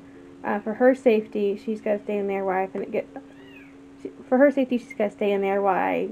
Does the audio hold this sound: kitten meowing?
yes